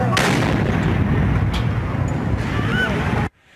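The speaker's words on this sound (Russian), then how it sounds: "с левой стороны услышали взрыв" A loud, sustained explosion roar in Kharkiv during the war in Ukraine fills the clip, broadband and rumbling, then cuts off abruptly into near silence.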